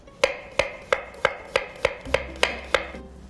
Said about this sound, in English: Take off the end and then thinly slice it.